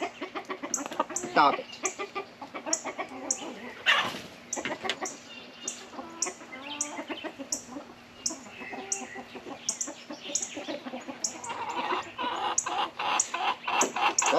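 A seven-pound rooster held for toenail trimming clucks and squawks almost constantly at close range, with a steady hum in the background and a person speaking briefly.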